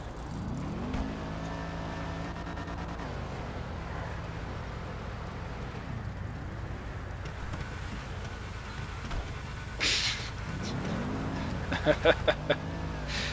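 Cars revving at a car meet in GTA V, including American muscle and JDM cars, with engines rising and falling in pitch and a few sharp blips near the end, under and around casual talk.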